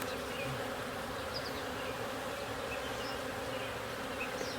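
Honeybees swarm and buzz around an opened backyard hive during a May inspection, a dense, continuous droning hum heard close up, with individual bees whizzing past now and then.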